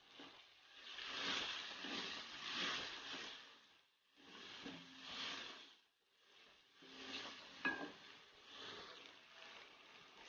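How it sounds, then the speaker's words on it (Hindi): Spices roasting in a hot pan, with a soft continuous sizzle and hiss that swells and dips as they are stirred, faint and heard alone without talking. "स्पाइसेस की 1 से 2 मिनट अच्छी तरह भुनाई करें"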